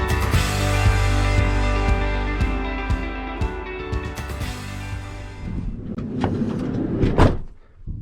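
A camper trailer door opening and closing at a desert campsite, a series of clunks and rattles over a low rumble, ending in a solid slam.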